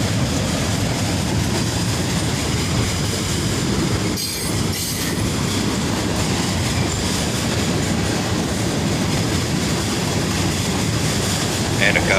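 CSX freight train with a tank car rolling past on a bridge, a loud continuous rumble with wheel squeal and rhythmic clacking, close by throughout.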